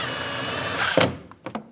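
A power drill drives a screw into the bottom right of a rear door panel on a 2001-2006 Chevrolet Silverado 2500 HD, giving a close, loud whir that stops with a sharp click, followed by a couple of quick, fainter taps.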